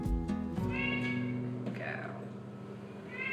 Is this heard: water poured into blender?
no